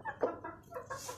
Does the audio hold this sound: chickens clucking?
yes